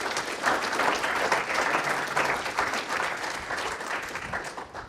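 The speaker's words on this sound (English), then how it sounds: "If we could give them a nice round of applause." A lecture audience gives a sustained round of applause at a public talk, many hands clapping in a dense, even wash that tapers slightly toward the end, with no voices over it.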